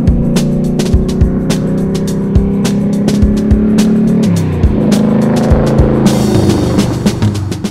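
A big-block 800 hp 1969 Ford Mustang engine revs hard up close, its deep, loud roar rising and dropping through repeated throttle blips with sharp bursts in between.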